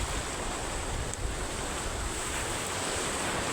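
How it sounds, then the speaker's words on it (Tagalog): Big sea waves after a storm surge and wash steadily, a loud broad roar of surf mixed with wind buffeting the microphone, with no voices. "medyo malaki pa rin yung alon"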